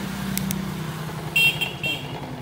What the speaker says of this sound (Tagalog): Naka dual horn ito mga boss.